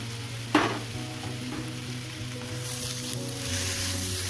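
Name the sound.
poha ingredients stir-frying in pan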